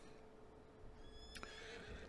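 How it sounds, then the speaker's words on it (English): A horse whinnies loudly and briefly in the farming game Farming Simulator 19, heard over a steady low hum of game ambience, with no talking. "that poor horse is going to need some, poor Anne is going to need some food and such"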